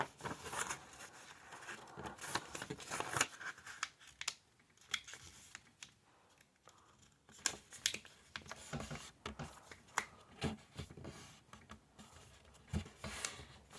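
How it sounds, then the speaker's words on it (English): Origami paper being folded in half makes close, crisp crinkles and soft taps, coming in uneven clusters of rustling with short quiet gaps between them. "I'm going to fold in half this way now."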